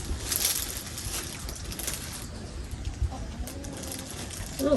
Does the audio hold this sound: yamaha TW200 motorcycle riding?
no